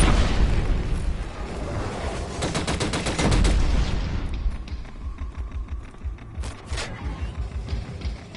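A grenade blast and bursts of automatic gunfire in a Killzone Shadow Fall multiplayer match, loud and close at first, a heavy boom then a rattling volley that thins into scattered distant shots and debris.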